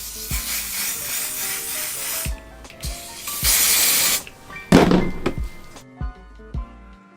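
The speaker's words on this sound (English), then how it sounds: "I'm gonna go ahead and spray the front, that crusty line" Several bursts of aerosol spray hissing, a long one followed by shorter sprays, with soft thunks and handling noises in between.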